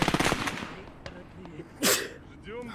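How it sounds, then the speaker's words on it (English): Brief machine gun burst in the World War II game Gates of Hell: Ostfront, a rapid rattle at the start followed by a sharp single crack and a louder blast, with a voice talking over it. "He's got an MG there."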